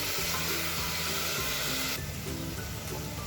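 Ginger, garlic and onion sauté in a hot pan for a Kannur-style kunji pathal, a steady dense sizzle close by, shifting slightly partway through as the pan is stirred.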